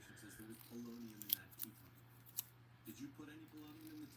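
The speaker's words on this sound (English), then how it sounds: "took my scissors, and you want to go a little bit of a down angle" Scissors snipping polymer clay at a slight downward angle, with several short, quiet cuts spaced through the clip and a faint background hum.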